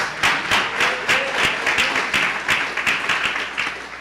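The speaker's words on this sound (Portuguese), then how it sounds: "Dê uma salva de palmas ao Senhor." Congregation applause at a church service, sustained dense clapping from many hands lasting several seconds, steady and fairly loud with scattered sharper claps.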